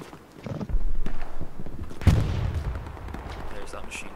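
Machine gun fire in Hell Let Loose: a dense burst of shots followed by a sharp second volley, loud and close, with a voice talking over the gunfire.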